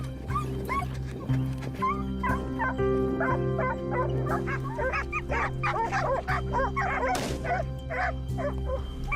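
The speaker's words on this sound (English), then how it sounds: "The dog's aggressive barking echoed again from the other side of the hill, a clear warning." Hunting dogs during a wild boar hunt bark repeatedly in rapid, overlapping bursts mixed with yips and whines, fairly close over a steady low engine-like hum, with no talking.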